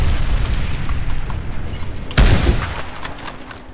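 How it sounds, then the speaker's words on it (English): Bomb detonation in the shooter game Warface, Breakout mode: a sudden sharp blast midway through with a rumbling tail, following a stretch of steady gunfire and game noise. "The bomb exploded."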